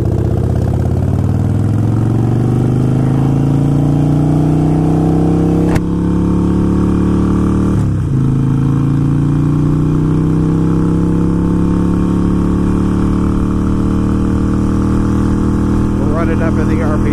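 A Harley-Davidson motorcycle engine runs loud and close during a Screamin Eagle Pro Tuner tune, holding a steady, heavy drone whose pitch climbs gradually, with a brief dip partway through.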